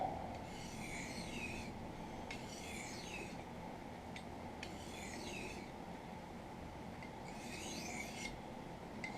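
A knife blade is drawn back and forth over an oiled sharpening stone, giving about four separate raspy scraping strokes over a steady background hum, close and moderately loud.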